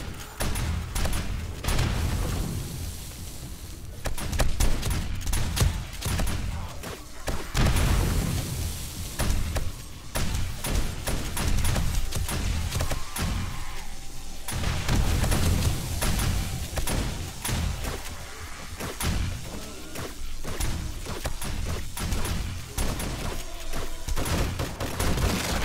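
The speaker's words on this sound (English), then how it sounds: "Are my SMG turrets firing?" SMG turrets firing in the survival game 7 Days to Die, producing dense, continuous rapid gunfire with booming impacts layered throughout, loud and sustained with no talking.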